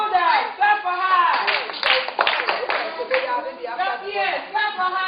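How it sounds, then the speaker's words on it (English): Children in a school community session clap on cue, short bursts of clapping mixed with an adult voice and the children's chatter. "Your shoulders, clap for her."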